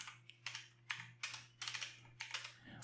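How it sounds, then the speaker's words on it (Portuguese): Computer keyboard keys typed in quick bursts of clicky strokes with short pauses, entering a terminal command; close and clear with no talking. "E vou digitar nano,"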